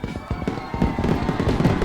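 Fireworks sound effect playing on a live game-development stream: a dense, continuous run of crackling pops and bangs, fairly loud and close, with no pauses across the short stretch.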